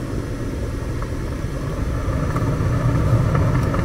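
A furnace blower runs during a heat exchanger test, giving a steady, close low rumbling whir that holds even throughout with no talk.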